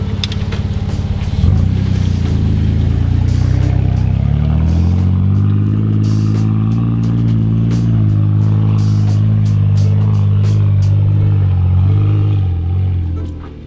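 Jeep Wrangler JK with regeared 5.38 axles climbing a steep hill in 4 high, its engine holding a loud, steady drone that rises in revs, with clattering and rattling over the top, close by.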